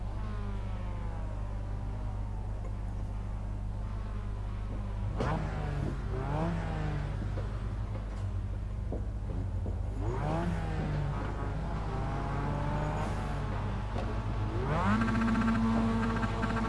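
Race cars accelerating hard off the start line, engines revving and rising in pitch in repeated surges, loud and close with a steady engine drone underneath.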